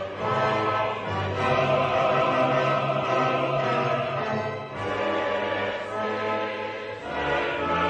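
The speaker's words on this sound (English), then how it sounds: "with a national anthem that sounds like this." Bulgaria's national anthem, heard as a full, sustained orchestral or choral performance with held harmonic chords swelling steadily at fairly loud volume, without speech.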